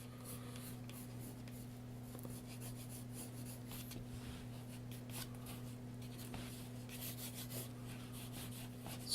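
A pencil sketches an ear on paper, a soft, continuous scratching and rubbing of graphite that runs steadily throughout at low volume with a faint background hum.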